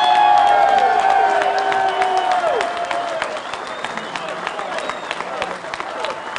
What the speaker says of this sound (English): I want you to give our senator and our next senator a round of applause that he'll never forget